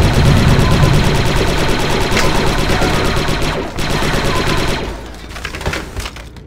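Clone commando weapons in Star Wars Republic Commando rattle in a dense, rapid stream of loud shots that thins slightly toward the end, with no voices.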